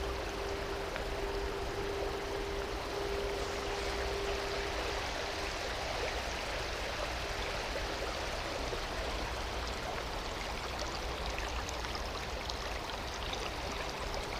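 A shallow river rushes and burbles steadily, a constant broad wash of flowing water heard close and evenly throughout with no voices.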